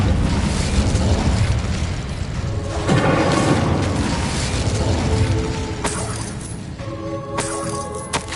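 Incendio fire spell blast from the Hogwarts Legacy video game: a loud whooshing burst with a rumbling boom that fades into crackling, followed by sharp tonal magical chimes and zaps near the end.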